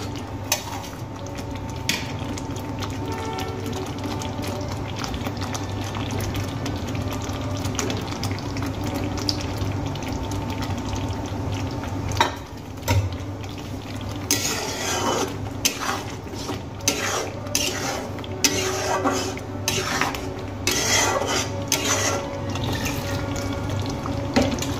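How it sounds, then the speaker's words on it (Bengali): Fried eggs go into a pan of masala and get stirred, with a steady wet bubbling hiss and repeated scraping clicks of a spoon against the pan, close and continuous without speech. "এবার এর মধ্যে দিয়ে দেব ভেজে রাখা ডিমগুলো।"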